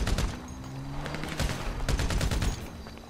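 Rapid automatic gunfire fills a GTA 5 online match on PS4, loud and close in sustained rattling bursts, with a low droning tone running underneath.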